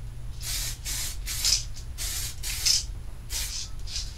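DuraBlue spray-on bluing sprayed onto a gun in eight short, evenly spaced hissing bursts, each about a third of a second, with a low steady hum underneath and no voices.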